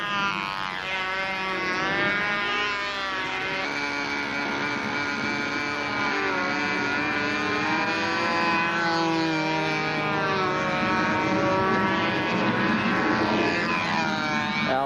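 An aircraft on a practice flight drones steadily throughout, its engine tone rising and falling in pitch as it maneuvers, with no voices over it.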